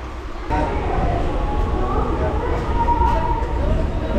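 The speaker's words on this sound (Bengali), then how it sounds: "একদম নির্ধারিত সময় 5:40 আমাদের ট্রেন ছাড়লো এই সাঁতরাগাছি স্টেশন থেকে" A Santragachi–Jhargram MEMU train pulls out of Santragachi station, a loud continuous rolling rumble rising after a short quiet start, heard from inside the coach with muffled voices around.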